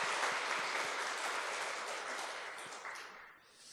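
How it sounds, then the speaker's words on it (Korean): A congregation claps in welcome during a Sunday service at Eonyang First Church, a full, sustained round of applause that tapers off near the end. "우리 다시 한번 환영의 박수하겠습니다."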